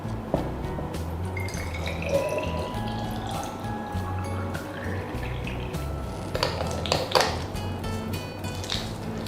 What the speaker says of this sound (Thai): เวลาเรารินน้ำผักผลไม้ เราก็ต้องรินให้เต็มขวดนะครับ